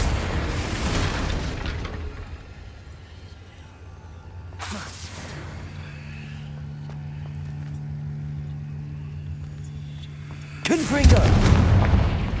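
Booming fireball blasts from the Confringo spell in a Harry Potter video game, one loud burst at the start, a second mid-clip, and another heavy blast near the end, with a low steady hum between.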